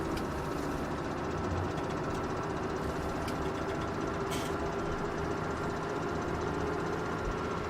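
A tractor engine runs in the farming game Farming Simulator 17, a steady low mechanical drone with a constant rumbling hum and faint knocking texture, continuous and even throughout with no voices over it.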